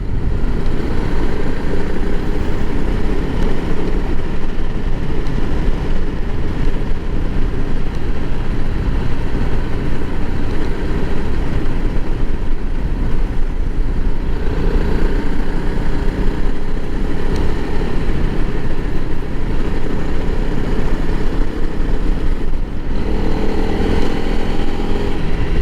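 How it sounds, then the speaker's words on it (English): A 2021 Honda CRF300L Rally motorcycle engine with stock exhaust drones steadily and fairly quietly for a long stretch, a constant even hum with some wind noise and no talking. "its stock exhaust is pretty quiet, but it sounds okay"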